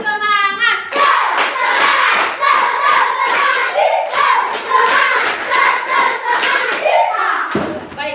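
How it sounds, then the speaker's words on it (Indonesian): A standing school class performs 'tepuk semangat', a patterned rhythmic clapping routine, with sharp, loud, in-time claps and children's voices chanting along in bursts before it stops abruptly. "Tepuk semangat."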